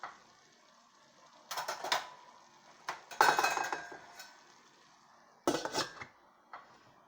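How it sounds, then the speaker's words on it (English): A lid set on a frying pan of cabbage, giving a few separate metallic clanks and clinks over about seven seconds, close and moderately loud against quiet. "Then you just put the lid on it and give it another 5 minutes."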